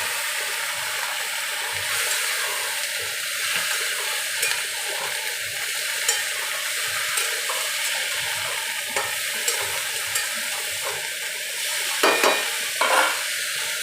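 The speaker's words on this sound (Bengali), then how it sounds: "সবজিগুলো বেশ কষানো হয়ে গেল, ভাজা ভাজাও হয়ে গেছে" Mixed vegetables for shukto, including pointed gourd and drumstick, stir-frying in a pan with a dense continuous sizzle and occasional scraping spatula strokes, close and steady with no talk.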